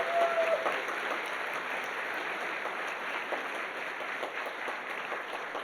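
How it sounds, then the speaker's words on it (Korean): Steady applause from a church congregation at a Christmas Day service, broad and even throughout, with no talking over it. "우리 박수합니다"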